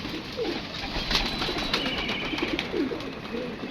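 Pigeons gathering to eat scattered grain, with soft cooing and faint bird calls over a steady outdoor background hiss, a few brief wing flutters mixed in.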